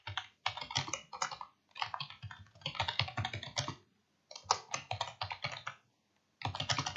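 Someone types on a computer keyboard in quick bursts of clicking keys, pausing briefly between runs of keystrokes. The sound is close and fairly quiet, with no talking.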